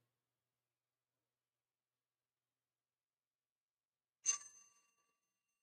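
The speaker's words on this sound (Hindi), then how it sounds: "घंटी बजी," A single bright bell ding rings out after a long silence, sharp at the strike and ringing briefly before fading away.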